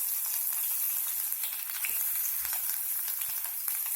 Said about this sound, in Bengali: রসুনটা একটু লাল করে ভেজে নিতে হবে।